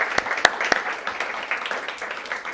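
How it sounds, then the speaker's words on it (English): A room of people at a PROCJAM 2016 welcome session claps for the editor of the event's zine, a moderate patter of hands with a few sharp, louder claps standing out near the start. "So if we could have a round of applause for"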